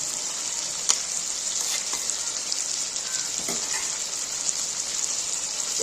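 Deep-fried onions tipped into a pot of hot oil crackle and sizzle steadily at moderate volume, with a few faint clinks of a utensil along the way.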